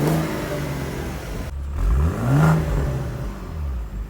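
A BMW engine, either a 4.0-liter V8 or a 3-liter straight six, revving up hard from idle to a rising roar and then falling back, loud and close, with no voices.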